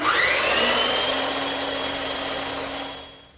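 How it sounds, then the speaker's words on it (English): A bandsaw cuts away wood to form a tenon for an English garden bench, giving a steady, close, droning whine with a faint sawing hiss that holds for about three seconds before easing slightly. No one speaks. "I could use a hand saw to remove the material, but the bandsaw is just quicker"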